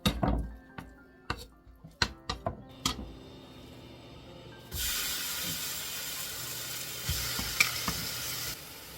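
Several sharp knife chops on a cutting board, then a sudden loud, steady sizzle as garlic hits hot sesame oil in a pan and is stir-fried, with a few faint clinks over the hiss.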